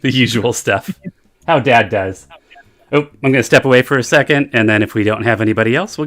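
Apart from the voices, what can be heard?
No everyday noise stands out behind the speech.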